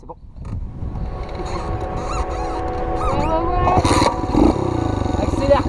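A motocross bike revs and accelerates hard, its engine note rising and growing louder over several seconds, with voices and a dog heard alongside.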